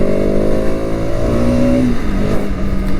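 A Bajaj Pulsar RS 200 motorcycle from 2025 revving as the rider downshifts with the clutch, a steady loud engine note that falls in pitch, with no speech.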